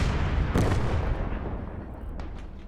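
A sniper rifle shot in the Finland versus USSR battle of the video game Gates of Hell, one booming report early on over a dense rumble of distant battlefield gunfire and explosions, with fainter cracks near the end.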